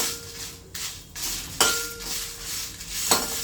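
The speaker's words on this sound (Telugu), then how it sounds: "ఎండుమిర్చి ఇవి ఒక 2 నిమిషాలు వేగాలి." Dry red chillies roasting in a pan without oil, stirred with a utensil that scrapes and clinks against the metal in a few sharp strokes over a soft, faint background rustle.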